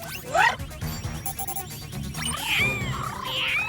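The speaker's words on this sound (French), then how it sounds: "je capte des miaulements et un chant d'oiseaux dans le parc." Cat meows ring out near and far in a park, mixed with chirping bird calls and some clattering background noise.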